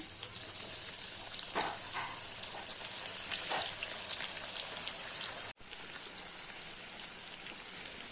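Sliced onion dropped into hot oil sizzles steadily, a bright, continuous hiss with scattered pops and crackles close up, and no voices over it.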